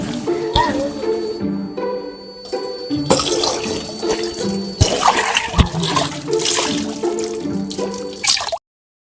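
Clothes being washed by hand with water: splashing, sloshing and dripping water with sudden pours and wringing bursts, loud and close, continuing for several seconds before ending abruptly.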